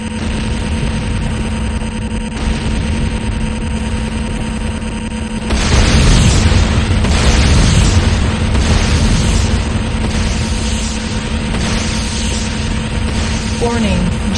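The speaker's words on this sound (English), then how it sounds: "GDI Tiberium refinery destroyed" GDI Tiberium refinery being destroyed in the game Renegade: a heavy, loud explosive blast erupts midway over constant battle noise, leaving a sustained roaring rumble with pops, while voices talk throughout.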